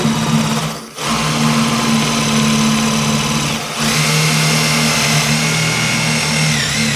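A power drill whines steadily as it bores through ceramic wall tile into the timber behind while fitting a shower grab rail, loud and close, briefly dipping twice before resuming its high continuous drone.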